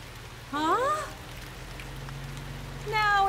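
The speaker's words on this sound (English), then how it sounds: "Now it's even raining." Steady rain falling in the countryside in an animated children's show, a constant hiss throughout while cartoon voices call out over it.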